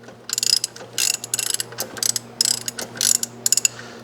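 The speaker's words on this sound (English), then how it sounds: "If I give it a good crank," A hand ratchet cranks over a rebuilt Audi 2.0T engine, giving loud, rapid bursts of clicking pawl strokes in an uneven rhythm, close up, with a low steady hum beneath.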